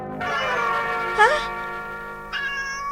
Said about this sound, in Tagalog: Day manan ti pusa. Ada iti sirok ti lamisaan.